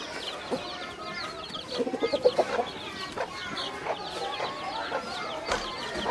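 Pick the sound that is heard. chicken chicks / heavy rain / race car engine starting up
chicken chicks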